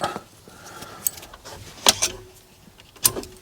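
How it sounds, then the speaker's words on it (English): Metal Allen keys clink and rattle in a few sharp bursts as they are pulled out during work on a Fiat Scudo's heater controls, close up over a quiet background. "Get them Allen keys out now."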